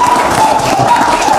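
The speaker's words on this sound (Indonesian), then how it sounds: "Tepuk tangan dulu untuk kita semua" A crowd at a legal mediation meeting claps loudly and continuously, a dense close wash of hand claps with a thin steady tone running underneath and scattered murmuring voices.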